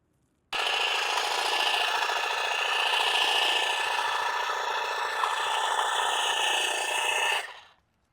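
GarveeTech 22-inch cordless hedge trimmer cutting through thick plants, a loud continuous buzzing of the motor and blades that starts abruptly and runs steadily for about seven seconds before winding down, no voices.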